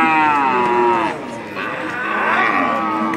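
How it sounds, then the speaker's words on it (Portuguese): Cattle moo loudly at a livestock fair in Cachoeirinha, Pernambuco, with two long, close, wavering calls back to back over a faint crowd murmur. "Boi bravo, boi bravo."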